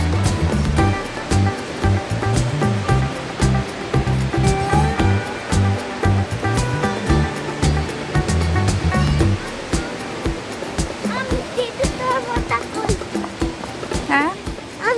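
Shannon Falls, a tall waterfall in a British Columbia park, rushes with a steady broad roar of falling water, loud and continuous, while people talk over it throughout.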